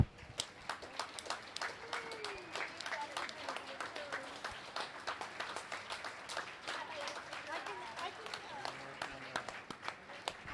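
Steady applause from a crowd at a high school boys swim and dive meet, dense claps heard from a distance and fairly faint, continuing evenly for about ten seconds.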